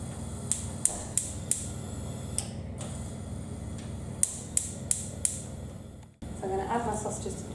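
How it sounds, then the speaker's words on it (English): An oven dial is turned on with a run of sharp, close mechanical clicks and ticks in two bursts, followed by a sudden drop and low rumbling; a voice is heard briefly. "Turning my oven on."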